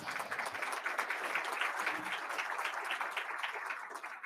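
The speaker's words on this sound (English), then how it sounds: "So let's give him a big applause." An audience at a public media panel on election results claps for a moderator, a soft, steady wash of applause heard from a distance.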